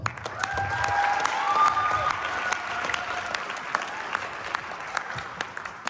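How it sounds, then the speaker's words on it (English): A spring concert audience applauding a choir's bass soloist, broad clapping that swells early and then tapers slightly, with some voices and faint tones mixed in beneath. "Please give him a round of applause."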